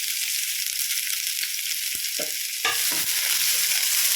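Onion, green chilli and mustard seeds sauté in hot oil with a steady close sizzle, broken by the scrape and clink of stirring that grows louder partway through. No one speaks.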